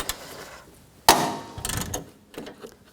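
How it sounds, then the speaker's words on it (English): A ratchet wrench with a 10mm socket loosening bolts on a 2004–2009 Toyota Prius radiator fan assembly: a few sharp metallic clicks and clacks with quieter ratcheting between them, close by. "I'll just switch to a ratchet wrench."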